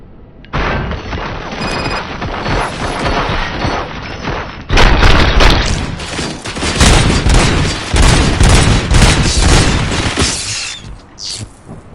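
Heavy gunfire and booming blasts in the Robocop video game, loud sustained volleys that start after a brief lead-in and intensify midway, rattling on near-continuously before tapering at the end.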